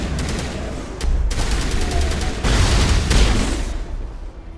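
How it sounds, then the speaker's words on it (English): Coordinated crossfire in Mass Effect hammers away as loud, dense bursts of rapid gunfire and booming shots overlap in a continuous barrage. "Monovi is under coordinated crossfire."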